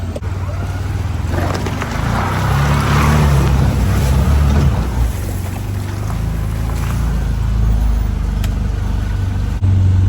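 A Can-Am off-road vehicle drives with a loud, steady engine drone and rumble, and faint rattling mixes into the continuous mechanical noise.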